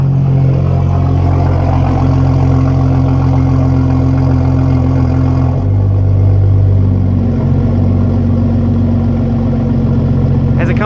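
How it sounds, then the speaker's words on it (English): A 2016 BMW 435i xDrive engine hums steadily and loudly near the microphone, its pitch dropping partway through as it settles down off a high idle. "As it comes down off a high idle, it's much less aggressive."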